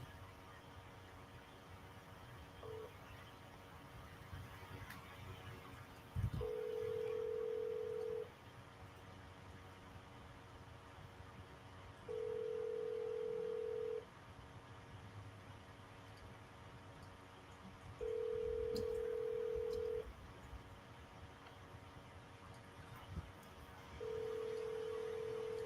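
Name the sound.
telephone call being dialed and ringing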